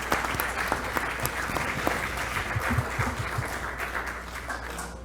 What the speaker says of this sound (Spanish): siempre pues les vamos a dar un fuerte voto de aplauso a ustedes por su constancia y permanencia.